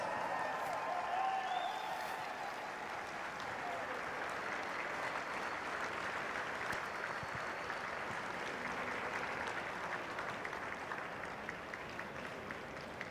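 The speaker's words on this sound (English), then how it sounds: "Let's give them another big round of applause." Sustained, dense applause from a large crowd at the 2018 World Ultimate Club Championships men's final, a steady wash of clapping and cheering that stays loud and even throughout with no pause.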